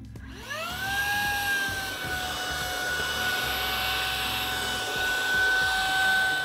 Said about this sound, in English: What I do love about this vacuum is how quick and easy it is to just swap heads partway through your job.